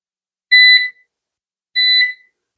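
A kitchen appliance timer sounds two loud, bright electronic beeps about a second apart, with silence around them.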